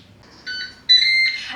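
A Ninja Speedi cooker signals that cooking is done with a short run of bright electronic beeps, the last ones louder and longer, over a quiet kitchen background.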